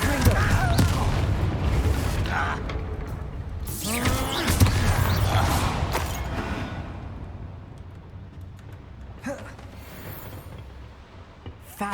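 Fiery Confringo curse blasts from a wand duel in Hogwarts Legacy, booming and crackling amid combat effects with a spoken spell incantation, loud throughout the opening seconds before the action settles down.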